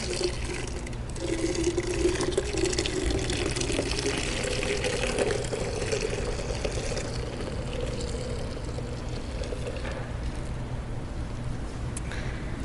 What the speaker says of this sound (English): you can look at this milk as I pour this